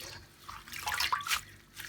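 Water with baking soda, used for soaking chickweed (stellaria media) in a kitchen, swishing and trickling in a short burst that peaks mid-clip and then settles, close by, with no talking.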